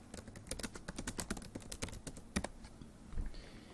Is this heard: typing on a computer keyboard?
yes